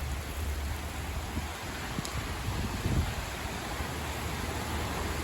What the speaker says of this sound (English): Oh, it's raining, my friends.